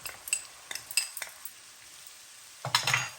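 A utensil stirs spicy oxtail frying in a pan, making a few close scraping clinks, then a pause and a louder scrape with sizzling near the end, with no talking.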